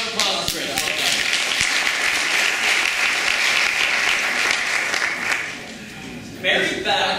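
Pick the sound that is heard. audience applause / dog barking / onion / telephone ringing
audience applause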